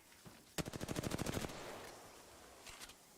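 Rapid automatic gunfire from a battle royale video game, a dense burst of about a dozen close, loud shots lasting nearly a second, followed by a couple of fainter shots a moment later.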